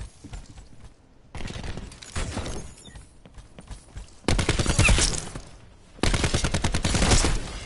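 Bursts of gunfire in the video game Black Ops 4, several separated volleys of rapid shots, fairly close and sharp, with quieter gaps between them.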